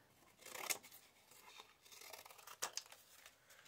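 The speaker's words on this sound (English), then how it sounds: "Out of the next petal, I'm going to cut two petals off." Scissors snip through vintage book page petals in a few quiet, close cuts with soft papery rustling between them.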